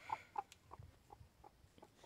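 Young Cochin chicks clucking softly nearby: a series of short, faint, evenly spaced clucks and peeps over quiet background.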